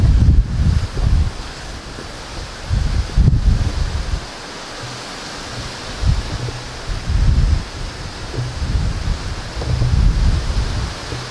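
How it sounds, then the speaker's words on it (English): Strong wind buffets the microphone at the top of the Haughmond Abbey ruins, coming in loud rumbling gusts with brief lulls between them and no voices. "going to be windy as hell up here."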